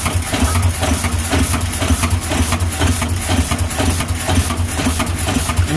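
An engine idles steadily after being started to charge batteries, a low rhythmic throb with a pulsing mechanical beat, loud and close, running evenly throughout.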